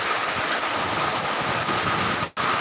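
Rain falling steadily over a village area, a dense, even hiss of drops close by with a brief break near the end.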